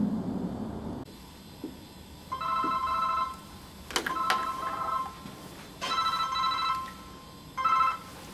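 A telephone rings in repeated electronic bursts, three rings separated by pauses, with a few clicks and bumps in between.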